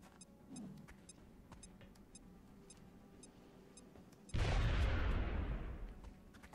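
A frag grenade detonates in a video game mission: a sudden loud, broad boom hits after a quiet stretch of faint ambience, then rumbles and slowly decays over about two seconds.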